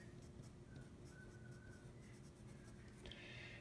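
Pen or marker writing notes in a math lesson on polynomial vocabulary, a run of quiet scratchy strokes and taps in close, steady succession.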